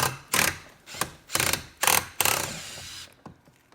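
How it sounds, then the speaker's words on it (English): Ford Crown Victoria front door panel screws being backed out with a tool, heard as five or six loud, close, evenly spaced bursts of mechanical whirring, then a fading tail. "The screws you want to take out are right here."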